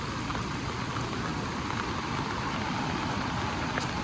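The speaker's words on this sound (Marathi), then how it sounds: "कारण का पाऊस बघा तुम्ही थांबत पण नाही" Steady hiss of extremely heavy monsoon rain pours down without pause on a flooding village in Maharashtra, dense and even throughout, with no voices.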